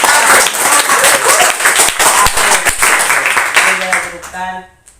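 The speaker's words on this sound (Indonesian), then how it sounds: "tepuk tangan buat kelompok." Classroom applause for a presenting student group during a lesson on pulleys: loud, dense clapping close by, mixed with voices, tapering off near the end.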